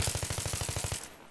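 Rapid machine gun fire in Battlefield 3, a steady run of about a dozen evenly spaced shots lasting under a second before cutting off, loud and close with no talking over it.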